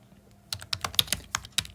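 Quick irregular burst of keystrokes on a computer keyboard, about a dozen close, crisp clicks following a brief quiet start, with nobody speaking.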